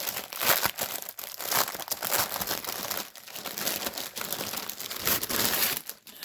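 Crinkling plastic from a bag as a 50 by 50 Fish and Lotus diamond painting kit is pulled out, a close, steady rustle and crackle with brief quieter gaps.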